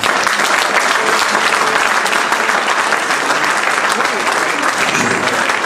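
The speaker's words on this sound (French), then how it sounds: "Est-ce qu'on peut applaudir davantage M. Henri Lopez" Loud, sustained audience applause honouring Congolese writer and politician Henri Lopes, a dense crowd clapping evenly close up for the whole stretch.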